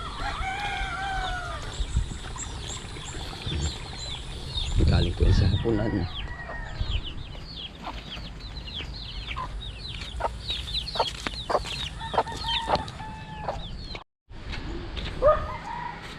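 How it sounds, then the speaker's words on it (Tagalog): Chickens cluck and chatter continuously nearby on a farm by a small dam, with a rooster crowing early on and a person speaking briefly in Filipino over the flock. "yung bumaba ng mga manok oh"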